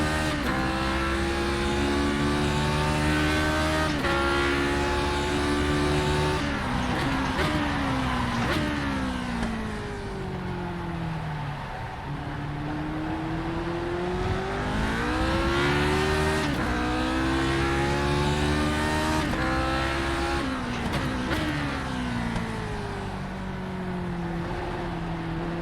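A Lotus 49 racing car in a racing sim screams through its gears, engine revving high and dropping on each shift and braking blip, with a steady, loud, close onboard drone throughout.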